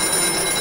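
A telephone rings in the video game White Night, a steady electronic trill with a bell-like shimmer that fills the short moment at constant loudness, with no voices over it.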